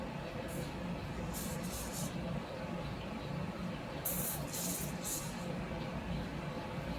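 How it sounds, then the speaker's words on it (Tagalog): WD-40 sprayed onto a Honda CR-V wheel bearing comes as several short, sharp aerosol hisses, two early bursts and a longer pair later, close over a low garage background hum. "spray natin yun ngayon ng WD-40"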